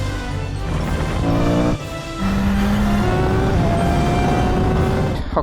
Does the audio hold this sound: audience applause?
no